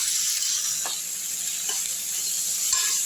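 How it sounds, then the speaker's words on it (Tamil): Ginger garlic paste and tomato sauté in a hot pan for a meal maker kurma, giving a steady, close sizzle with a few soft stirring scrapes and no talk. "அதையும் சேர்த்து நல்லா வதக்கிடுங்க. இதுலேயே தக்காளி போட்டுக்கலாம்."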